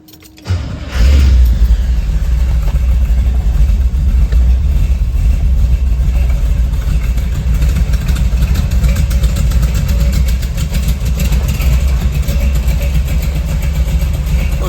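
A 1969 Chevrolet Corvette convertible fires up and settles into a loud, steady idle through its side pipes, a deep lumpy rumble that runs close and continuous after a brief crank at the start.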